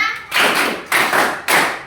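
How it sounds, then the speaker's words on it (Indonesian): A group of schoolchildren in a classroom claps together in unison, producing three loud, evenly spaced bursts roughly half a second apart that ring close and sharp. "Tepuk 1, tepuk 2, tepuk 3, tepuk 4, tepuk 5,"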